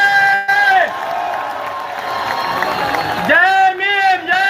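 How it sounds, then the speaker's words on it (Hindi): A large rally crowd cheers and applauds loudly, a dense roar of voices and clapping with whoops rising and falling, swelling again toward the end, with shouting voices mixed in. "जोरदार तालियों से स्वागत करें।"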